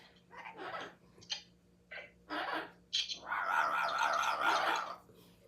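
A pet bird calls indoors in short, faint squawks and chirps, then gives one longer, sustained raspy call.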